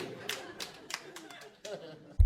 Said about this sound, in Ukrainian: Там хтось був один, хто плескав.